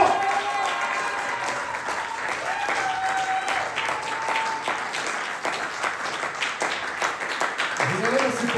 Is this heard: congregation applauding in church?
yes